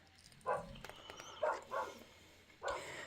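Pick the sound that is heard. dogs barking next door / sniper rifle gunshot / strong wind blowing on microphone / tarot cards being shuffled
dogs barking next door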